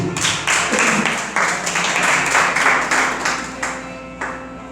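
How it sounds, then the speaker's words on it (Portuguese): A church congregation applauds with a sustained wash of clapping, rhythmic pulses rising and falling steadily throughout, fairly loud and reverberant in a large room. "Vamos aplaudir o Senhor em nome de Jesus."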